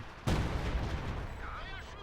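Howitzer artillery in Company of Heroes 2 lands with a sudden deep blast that trails off into a long rumbling roar of distant fighting, with a brief warbling tone rising near the end.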